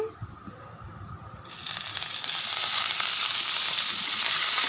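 Curry leaves hit hot tempering oil for a cucumber chutney. After a quiet start, a sudden loud burst of crackling sizzle begins and then holds steady, close up.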